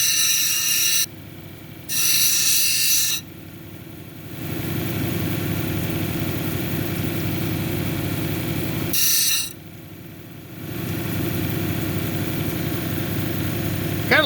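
A lapidary grinding wheel domes a thick quartz with jasper plume cabochon: a steady motor drone runs throughout, broken by a few bright, harsh rasping bursts as the stone meets the wheel.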